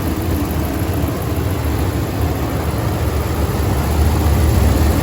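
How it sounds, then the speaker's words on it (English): A 5.7L Hemi engine in a Dodge Ram 1500 pickup idles loudly without pause after a water pump replacement, a continuous low rumble with an even hum and no voices. "Engine's running."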